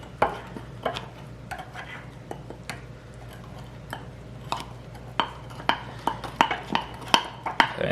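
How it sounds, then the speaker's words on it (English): Spoon clinking and scraping through batter in a bowl, a series of short sharp taps that grow louder and more frequent toward the end, close up, with no talking. "Now we actually have to mix this one. So let's just try it with this spoon."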